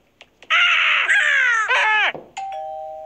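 A loud electronic doorbell chime plays a sustained, wavering tone that bends and breaks off, followed by a shorter steady tone, with no talking.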